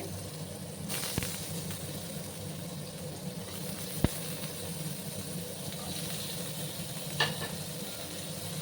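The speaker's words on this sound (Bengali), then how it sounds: "এবার আমি সামান্য আর একটু তেল দিলাম, দিয়ে আমি আলুগুলোকে একটু ভেজে নিচ্ছি" Potatoes frying in a little oil for an okra and potato curry, giving a steady soft sizzle throughout with a few faint clinks of a utensil, no one speaking.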